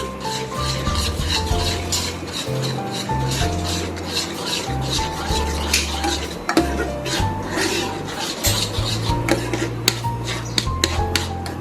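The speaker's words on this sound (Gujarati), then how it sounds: "એકદમ સરસ મિક્સ કરી લેશું." A spoon stirs and scrapes through paneer curry with garam masala and salt in a metal pan, giving a busy run of rasping scrapes and clinks throughout, close and fairly loud.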